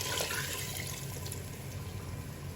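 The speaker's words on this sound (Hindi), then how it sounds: "अब हम इसमें डालेंगे पानी।" Water poured into a pot of fried daal mash with chicken, a steady rushing splash that fills the whole moment without a break.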